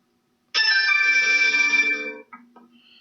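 A mobile phone ringtone suddenly blares during a Zoom court hearing, a loud, steady electronic ring lasting about a second and a half before cutting off, followed by faint room noise.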